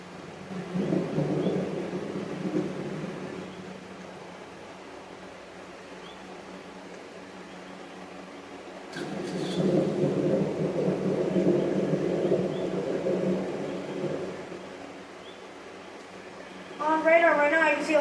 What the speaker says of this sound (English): Thunderstorms coming our direction as of now.